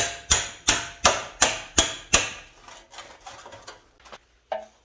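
Hammer blows driving a thin chisel sideways to split spot-welded steel floor and door post panels on a 1948 GMC truck: six sharp, evenly spaced metallic strikes, then softer scraping taps, close and loud.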